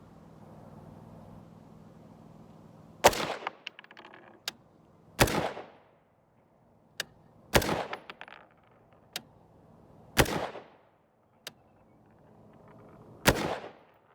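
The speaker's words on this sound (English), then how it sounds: "I'll just go ahead and shoot them and see if it's going to feed" Rifle firing 5.56 NATO M855 rounds over a chronograph: six sharp, loud gunshots spaced a couple of seconds apart, each with a brief echoing decay, plus a few fainter clicks between them and no talking.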